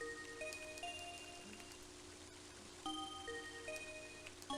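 Rain falls in the video game Mother 3, a soft continuous hiss of rainfall at low volume beneath scattered tonal game chimes and beeps.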